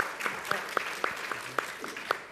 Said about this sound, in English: Safra, I see you clapping at your desk there.